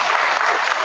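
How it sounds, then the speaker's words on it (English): Audience clapping at a World Environment Day event, a dense, loud, continuous burst of applause close by, with no voices over it. "let us clap once again for the program"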